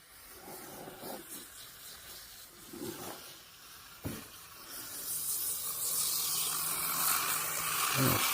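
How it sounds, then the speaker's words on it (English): ArmorAll carpet and upholstery cleaner sprayed from an aerosol can, a soft hiss that swells into a longer, louder spray toward the end, with faint handling noises earlier. "It sprays better when you get the can kind of at an angle."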